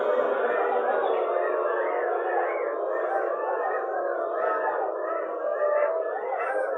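Audience members in a group yoga session imitate a koel's call, their voices forming a loud, overlapping chorus of rising and falling hoots that carries on continuously for several seconds.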